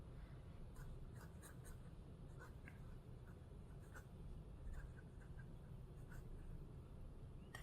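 A fountain pen scratches across paper in a notebook, soft continuous nib friction with small strokes and taps, faint and close, over a steady low room hum with no talk.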